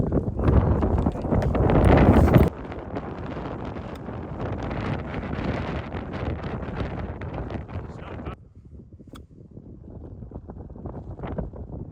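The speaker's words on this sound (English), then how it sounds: "It's that wind that you have to stand sideways onto, isn't it?" Strong wind on a golf course roars into the microphone as loud, steady buffeting that peaks in the first few seconds and then eases to a lower rumble.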